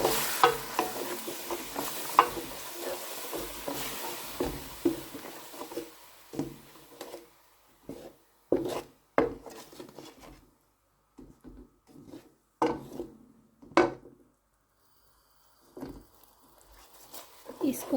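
Ginger garlic paste frying in a pan for a mutton paya curry, with scraping stirs and soft sizzling in irregular bursts, quieter stretches between them, close by.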